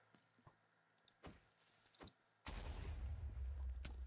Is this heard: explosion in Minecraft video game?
yes